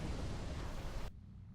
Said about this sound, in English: That was quite an explosion, probably from the Thalaron weapons carried aboard the ship.